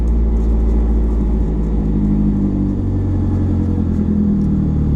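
Steady low engine rumble of a Hyundai Sonata cruising at an even, moderate level, with constant road noise and no talking.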